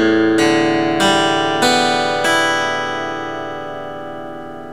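A freshly tuned acoustic guitar rings out as its strings are plucked one after another, four bright attacks in quick succession that blend into a long, slowly fading chord, close and clear with no voice.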